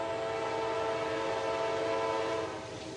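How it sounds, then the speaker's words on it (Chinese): A train rolls along the tracks at the old Thurmond depot, a steady rumbling drone with sustained tonal hum, moderately loud and continuous, with no voices. "我们甚至能听到一辆火车沿着铁轨正在驶来。"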